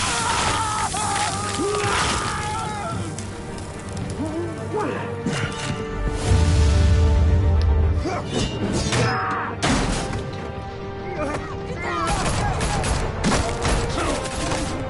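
Bursts of gunfire with sharp crashes and impacts ring out in Batman: The Telltale Series, a loud volley peaking mid-clip over a busy, layered game soundtrack.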